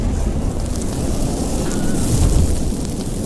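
A film explosion sound effect, a loud, dense blast that rolls on as continuous heavy rumbling for about three seconds with no speech.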